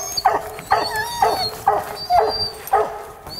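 Hunting hounds on a hare hunt give a run of about six sharp, whining barks and whimpers, repeated at a steady rhythm, close and fairly loud, with no talk.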